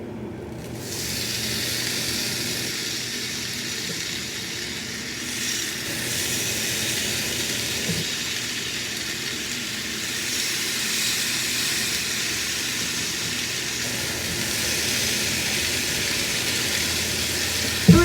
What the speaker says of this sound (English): gonna cook those for about 8 minutes or so, flipping occasionally and using some of our extra sauce to keep them moist while we are grilling them